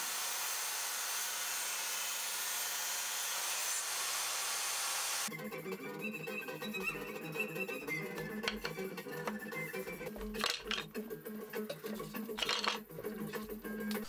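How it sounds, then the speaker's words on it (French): A power tool cuts a 45-degree bevel in wood, starting as a steady loud whine and then turning into a rougher, uneven buzzing with clatter as the blade bites. "De l'autre côté, je fais un biseau de 45 degrés."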